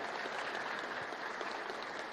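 Audience applause at a solemn session honoring Black Consciousness Day, a brief, steady wash of clapping heard somewhat distant and fairly soft.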